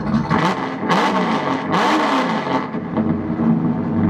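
A motor revs up and down repeatedly, loud and close, the engine pitch rising and falling in surges with no voices.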